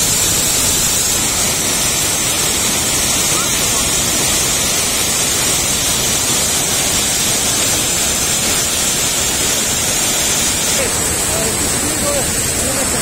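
Waterfall spray on the Krupa river at Kudin bridge, a loud, dense, unbroken hiss of rushing water and fine droplets close by, holding steady throughout with no pauses.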